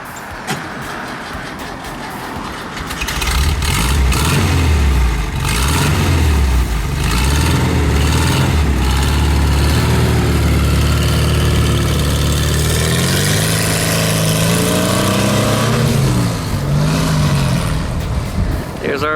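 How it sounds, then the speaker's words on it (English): A 1967 VW Bus engine revs hard and loud nearby, its pitch surging and falling repeatedly as the bus lifts into a wheelie, with voices in the background. "Wild Bill's going to do a wheelie for us."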